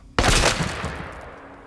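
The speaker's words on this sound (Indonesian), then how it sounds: "Ia mendatangi Razan dan mengeksekusinya dengan pistol tepat di kepalanya." A single loud gunshot from a pistol cracks suddenly, followed by a booming echo that slowly fades away, in a war film.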